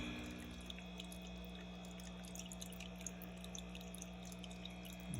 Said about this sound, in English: We got the waterfall set up and running.